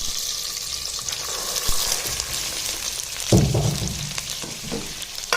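Peeled hyacinth beans with curry leaves sizzling steadily in a hot pan of oil, with occasional scrape-and-clink stirring sounds close by, and no talking.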